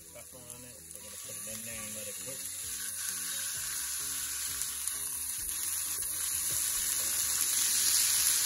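Boneless chicken thighs frying in olive oil in a pan, a steady close sizzle that grows gradually louder, with faint voices under it.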